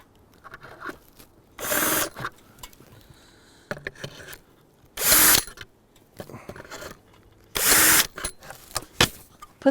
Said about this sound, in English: Hold it against the trunk and drill briefly through the top and bottom holes to mark the spots.